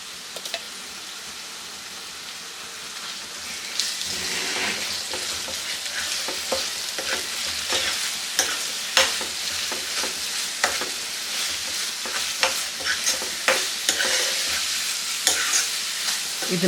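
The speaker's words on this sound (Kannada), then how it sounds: "ಇದನ್ನು ಚೆನ್ನಾಗಿ ಎಣ್ಣೆನಲ್ಲೇ ಫ್ರೈ ಮಾಡ್ಕೋಬೇಕು" Ground masala frying in oil for lemon rice (chitranna), a steady sizzle with a spoon scraping and stirring in repeated strokes, close and without talk.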